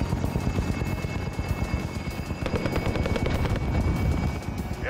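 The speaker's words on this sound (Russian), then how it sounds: "Вертолет прибыл. Можно вносить деньги." Helicopter in the video game Warzone, a steady loud rotor thump with engine roar that holds close and continuous throughout, with no talk over it.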